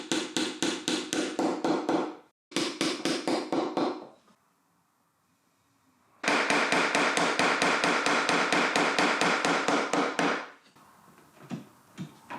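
Rounded wooden dowels are hammered into holes with rapid bursts of sharp, crisp hammer blows, two short runs, a quiet pause, then a longer sustained volley before the tapping fades to scattered light knocks.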